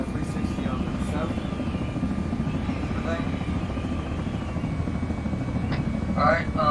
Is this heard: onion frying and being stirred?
no